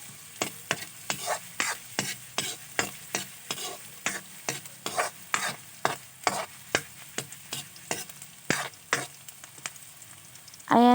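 Garlic and onion being stirred and sautéed in a pan for a Filipino vegetable adobo, with a steady run of close scraping strokes over a continuous sizzle, and no talking.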